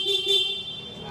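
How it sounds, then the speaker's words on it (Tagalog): A short, thin motorcycle horn beep from a CF Moto 450 MT sounds twice in quick succession, fairly near, then fades into quiet background. "Busina."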